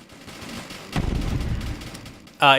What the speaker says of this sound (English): I'm gonna throw this grenade